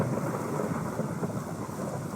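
A steady low rumble of video game thunder with rain-like noise in Minecraft rolls on continuously, fairly loud and unbroken throughout.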